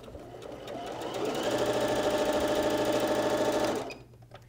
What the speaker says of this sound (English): Now I'm sewing a bit of a longer strip set here